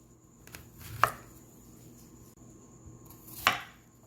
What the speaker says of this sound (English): Now you want to slice both squashes.